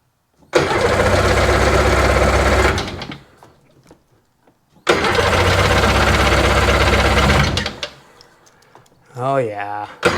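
A hard-starting Seadoo RFI 787 engine is cranked and fires in two loud bursts of roughly two seconds each, with a pause between them. Each burst ends as the engine dies, and a voice is heard near the end.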